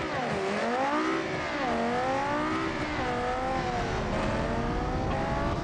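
A race car engine in a video game roars loudly and continuously, its pitch rising and falling as the engine revs through gear changes. No other sounds stand out.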